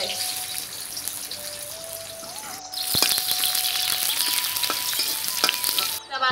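Onions frying in mustard oil in a wok, a steady bright sizzle throughout with occasional stirring clicks and scrapes, loud and close.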